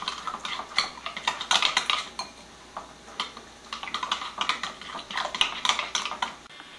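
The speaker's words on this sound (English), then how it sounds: "tablespoon of coriander powder, ginger, green chilies, and just mix it well." Coriander powder, ginger and green chilies being mixed into yogurt for a potato curry, heard as irregular clinks and scrapes of a spoon against a bowl, close and moderately loud with no talk.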